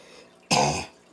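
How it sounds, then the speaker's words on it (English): A single harsh cough bursts out for about a third of a second, close and loud, during a session of cracking open geodes, with quiet room tone before and after. "I was trying to hold back that cough."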